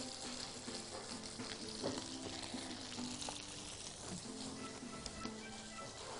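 Shrimp frying in a pan, a steady dense sizzle with faint stirring clatter, close and continuous without talk.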